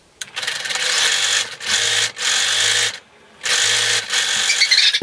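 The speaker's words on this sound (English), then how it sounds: "You're going to sew this seam with a 3/8 inch seam allowance, and you can do a zigzag stitch or a serger." A sewing machine stitches a seam in three loud, close, steady runs, each several seconds long and split by short pauses, with a brief stop and restart at the start.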